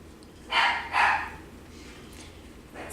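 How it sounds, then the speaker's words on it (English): A dog barks twice in quick succession at a moderate distance, followed by quieter background noise and a faint yip near the end. "If you hear a dog barking"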